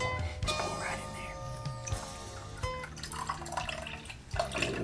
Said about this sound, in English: I'm just gonna pour off some of this pickle juice.